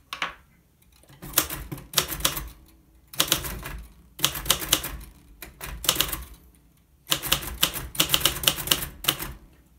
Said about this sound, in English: Sorry if the typing is a bit loud.